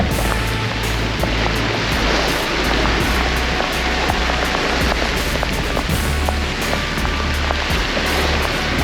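Dense rain hissing on a sailing boat at sea in rough Pacific conditions, with waves and wind forming a loud, unbroken wash and no talk.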